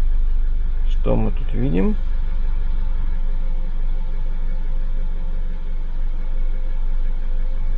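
Car engine running at a steady low idle after starting, a constant near rumble throughout, with someone speaking briefly over it near the start.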